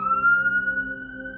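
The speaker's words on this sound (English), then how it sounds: "Sirens." A single siren wails steadily at a sustained high pitch, clear and fairly close, with no talking.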